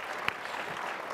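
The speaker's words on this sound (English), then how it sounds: "please clap for that," Audience applause at a conservative political conference panel, steady clapping from many hands at a moderate level, slightly distant, with one sharper clap standing out.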